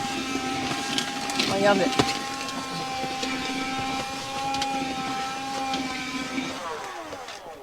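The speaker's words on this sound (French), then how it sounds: "T'aspires carrément la flotte d'en bas." A vacuum sucks water out of a shower tray in a VW Stylevan Equinox camper van, a steady droning whine with gurgling slurps, close by, while a person speaks briefly over it.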